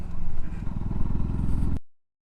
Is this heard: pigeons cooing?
no